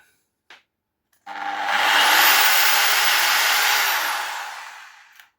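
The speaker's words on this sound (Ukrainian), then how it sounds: "зібрав я нашу дрель перфоратор" A Sparky 1010wt rotary hammer drill whirs up after a couple of small clicks, holding a steady high-pitched spin for about four seconds before winding down.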